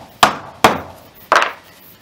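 Three sharp, separate knocks of a hammer on a small wood block spanning the face of a pressed-tin bearing case, tapping the bearing into a Scott Bonnar 45 rear roller assembly, close and loud with pauses between strikes.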